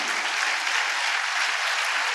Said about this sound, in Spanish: Denle un fuerte aplauso al Rey.